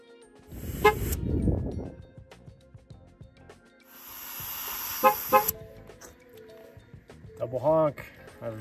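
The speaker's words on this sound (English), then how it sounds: "Double honk" Two short car horn honks in quick succession near the end from a Ford F150 during a tire pressure sensor fault reset, with talking and mechanical noise earlier on.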